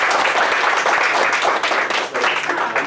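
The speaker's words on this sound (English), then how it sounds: "Let's give Ms. Lewis a big round of applause." An audience gives a teacher, Ms. Lewis, a round of applause, a dense, loud and steady wash of clapping with no break.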